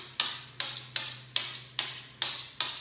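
A knife chops through ingredients on a cutting board for steak and ale soup, seven evenly spaced crisp strokes at a steady rhythm, close and clear over a faint low kitchen hum.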